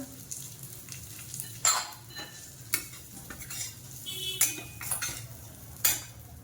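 Cashews roasting in ghee, a soft, quiet sizzle under a run of distinct metallic scrapes and clinks as a spoon stirs the pan, with a few louder knocks spaced through.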